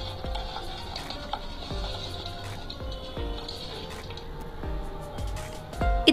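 Crunchy poha chivda, a Diwali snack made with one teaspoon of oil, stirred in a pan with a steady rustling, crackling scrape and light sizzle, close and continuous, with no talking.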